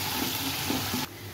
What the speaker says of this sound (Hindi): ये 2 बड़े प्याज हैं, इनको मैंने काट लिया है, ये हम ऐड करेंगे।